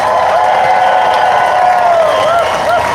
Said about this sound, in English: Let's give the staff to put this together a big round of applause